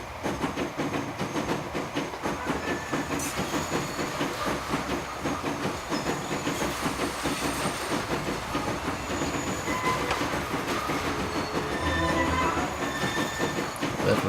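A train runs along track in the video game Transport Fever, a steady, loud rolling rumble with clickety-clack and occasional high wheel squeals throughout, no voices.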